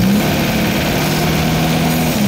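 A Nissan TD27 diesel engine runs loud and steady up close, its turbo drawing in air through a dirty air cleaner with a continuous whooshing drone.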